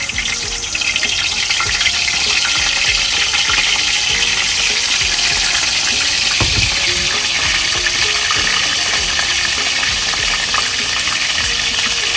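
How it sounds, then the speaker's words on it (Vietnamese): Fish frying in tomato sauce sizzles loudly and continuously in a pan, a dense hissing crackle close by with no talking. "Chiên sốt cà."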